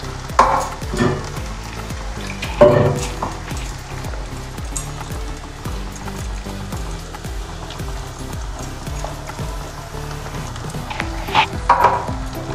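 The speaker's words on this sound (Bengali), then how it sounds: "একটু কষানো হোক ভালো করে।" Ginger, chilli, cumin and coriander paste sautéing with a little water over low heat for Bengali rui fish kalia: a soft, continuous sizzle with repeated stirring scrapes and occasional clatter, fairly close.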